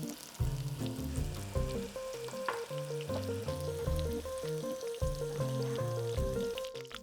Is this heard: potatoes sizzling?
yes